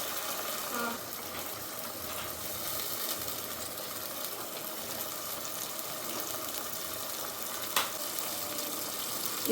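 Onions that have turned pink fry in a pan as a little garlic water is poured in, giving a steady close sizzle and bubbling hiss that runs unbroken, with a brief clink near the end.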